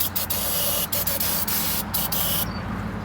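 Aerosol spray hissing in several short, loud bursts, squirted into an old engine that has sat for about thirteen years ahead of its first start, with brief gaps between puffs.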